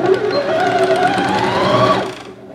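An Elna 450 sewing machine stitches a cushion seam in one steady whirring run of about two seconds, close and loud, then stops abruptly.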